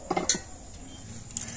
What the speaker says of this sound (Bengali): আর এবার আমি সুজির ডোটা থেকে ঢাকাটা খুলে নেব